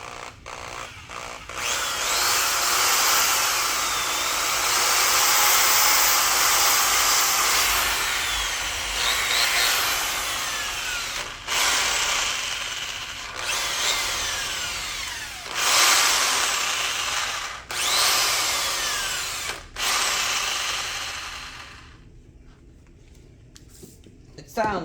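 Milwaukee Magnum variable-speed drill running in long whining bursts with brief stops between them, fairly close and loud, ending with a quieter stretch.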